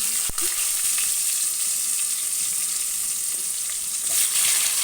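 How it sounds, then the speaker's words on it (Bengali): Vegetables fry in hot oil with a loud, steady, close sizzle, starting with one sharp knock as they go into the pan, with no talk. "দিয়ে এবার দেখো একে একে সব সবজিগুলোকে আমি তেলের মধ্যে দিয়ে দিচ্ছি।"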